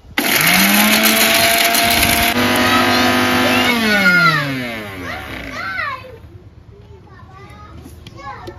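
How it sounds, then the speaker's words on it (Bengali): A kitchen mixer grinder grinds dried mango into amchur powder with a loud, high whirring motor that runs steadily and then winds down, its pitch sliding lower before stopping, with voices nearby. "এগুলো মিক্সিতে গুঁড়ো করে নেব"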